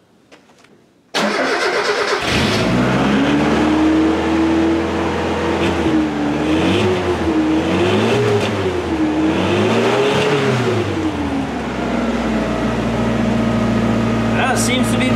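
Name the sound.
B2200 extended cab truck engine startup with replacement muffler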